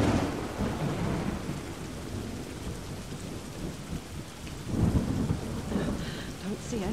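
Dense, steady video-game rainfall in a Tomb Raider level editor game with deep thunder rumbling through it, swelling louder for a moment midway before settling back.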